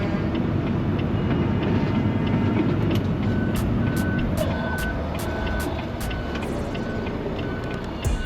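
Reversing beeps from a Volvo truck in a driving video game set in congested Brooklyn streets, a steady series of evenly spaced high beeps over a loud, constant engine rumble.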